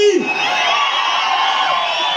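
An audience at a crowded festival and children's fair whistles and cheers loudly, with shrill whistles and whoops over a dense, continuous roar of crowd noise.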